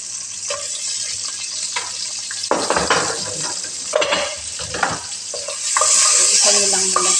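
Garlic, ginger and onion sautéing in a pan for chicken machboos, a loud sizzle broken by clattering stirs and utensil scrapes against the pan, swelling to a stronger hiss near the end.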